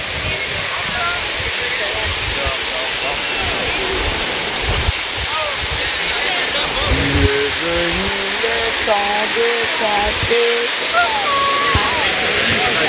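Water rushes steadily in a Rome fountain, a loud continuous hiss and splash close by, with people talking over it midway.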